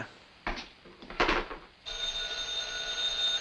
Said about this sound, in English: he's going to get a phone call now